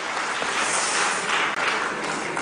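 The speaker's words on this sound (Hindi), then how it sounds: "ताली बजाओ जज्बे को।" An audience claps continuously and evenly for a couple of seconds in a roomful of people, a dense, loud burst of applause with no voices over it.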